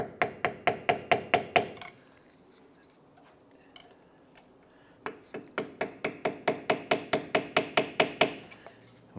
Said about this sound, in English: we're going to use the insert, this little brass insert, with our tool here and just gently tap this